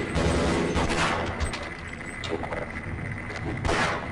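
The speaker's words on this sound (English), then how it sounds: "Can't keep shooting at that guy." Gunfire in Half-Life, a few sharp, loud shots up front followed by quieter bursts and a final blast near the end, set against a steady mechanical background hum.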